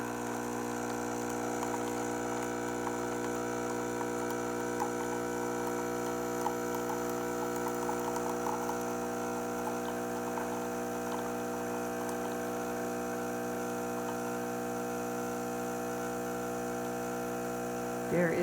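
A Jura A1 home espresso machine brewing fresh-ground coffee gives a steady, unbroken motor-and-pump hum with a tonal drone that holds level for the whole stretch, close by and with no talking.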